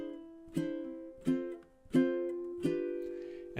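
Ukulele strumming single chords from a song around measure 7, four soft separate strums each ringing out, quiet and close with no voices.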